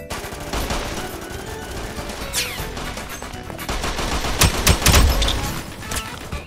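Gunfire from Roblox Arsenal's gun game mode, a fast volley of loud video-game shots that builds toward a dense burst near the end, with no talking over it.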